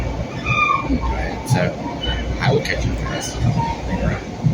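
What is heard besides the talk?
New York commuter train ride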